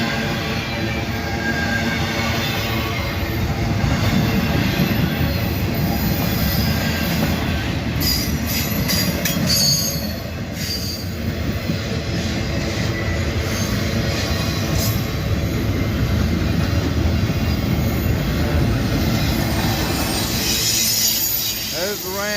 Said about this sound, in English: Ballast regulators, tampers, big tamper, train.